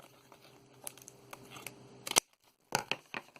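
Scissors trimming excess material from a back interior panel during crafting, quiet close snips and crinkly cutting sounds in short bursts with pauses between cuts, no talk.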